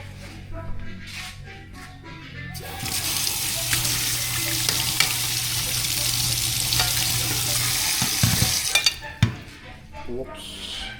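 Meat frying in a pan with salt, rendering its fat: a steady broadband sizzle rises after a quieter start and holds for several seconds, with a few scrapes and clatters near the end.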